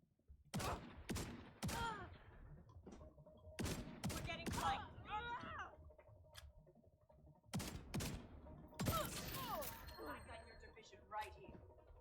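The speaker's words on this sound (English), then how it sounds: "Firing an RPG." Repeated explosive bursts of gunfire from an RPG rocket launcher fired in a shooter video game, loud and close, several sharp blasts with rumbling tails spaced across the stretch.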